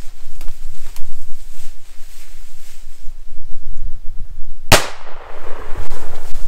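A single sharp rifle shot cracks loudly and close during a moose hunt in northern Alberta, a lone blast with a short decaying tail over wind noise outdoors.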